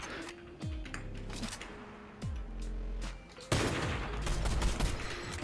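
Bursts of rapid gunfire from a Fortnite match, several volleys with sharp reverberant shot tails, growing louder and denser toward the end.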